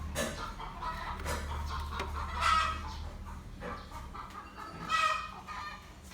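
Chickens cluck faintly somewhere nearby outdoors, with two short bursts of calls a few seconds apart over a low background rumble.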